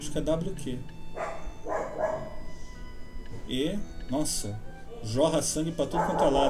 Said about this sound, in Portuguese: Desculpe o cachorro da vizinha.